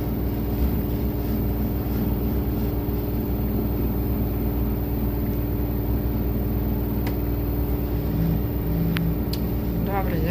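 An LG F2V5GG9T washer-dryer spins a load of towels at around 1170–1200 rpm, giving a loud, continuous whirring drone with steady low hum and faint higher whine, a few small clicks late on.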